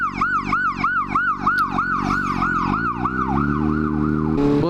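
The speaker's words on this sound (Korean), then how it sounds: "아, 우선은 앰뷸런스 오니까" An ambulance siren wailing in a steady up-and-down cycle as it passes through city traffic, loud and close over a low vehicle engine rumble.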